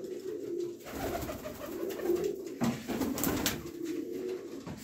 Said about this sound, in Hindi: कलसरे और कांटों वाले कबूतर